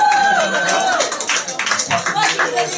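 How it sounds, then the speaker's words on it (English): An audience at a live show claps, a broad patter of applause running under a speaking voice that fades in and out. "one applause for Danilo."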